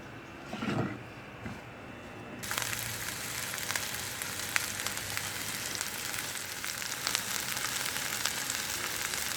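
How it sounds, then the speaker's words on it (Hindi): Capsicum sautés in hot oil in a pan. After a quiet opening with a brief bump, a loud, dense sizzle starts abruptly and then crackles steadily and close up for the rest of the time. "शिमला को सिर्फ सौते करना"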